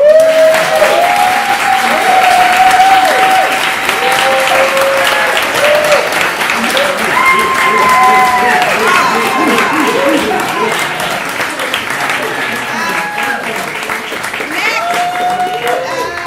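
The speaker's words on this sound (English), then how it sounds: "give the actors another round of applause" A theatre audience applauds the actors after a play, dense sustained clapping from a crowd filling the room, with voices and cheers mixed in throughout.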